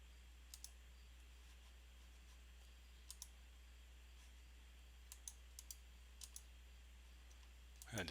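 A few faint, sparse clicks of a computer mouse spaced seconds apart in a quiet room with a steady low hum, the last pair coming in quick succession.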